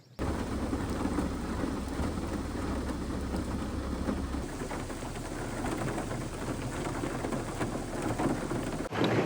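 Heavy rain falls steadily around a parked van while a deep thunder rumble rolls underneath, loud and continuous with no break.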